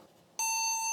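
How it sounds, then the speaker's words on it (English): An IBM 5151-era PC with its original ROM gives a single sustained electronic startup beep through a hooked-up speaker, starting abruptly partway in after quiet background hum and holding steady to the end. "the original ROM is causing it to beep"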